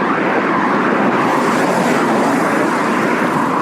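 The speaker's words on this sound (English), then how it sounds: "you can tell that we're near the airport because the planes all have wheels down, flaps down" A fixed-wing airplane on landing approach near Faro airport, wheels and flaps down, gives a steady, loud, broadband engine roar that holds evenly throughout with no gaps.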